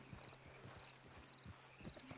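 Horse hooves in the Red Dead Redemption game clip-clop in a quick, irregular rhythm at moderate distance, faint and alone without talk.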